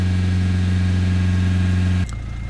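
A Nissan Juke diesel engine with a blocked particulate filter idles steadily with a loud, constant low hum and tonal drone. It then cuts off abruptly near the end, leaving a quieter rumble.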